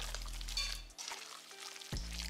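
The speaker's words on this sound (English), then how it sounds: "Now I am beating two eggs. I'm about to go ahead and pour that in there." Two beaten eggs poured into a Southern-style meatloaf mixture, a short, faint liquid pour lasting about two seconds, close by and quiet with no talking.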